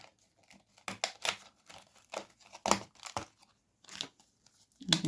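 Thin die-cut card pieces being torn and pulled free from a frame, several sharp crinkly tearing bursts separated by pauses, close and fairly quiet.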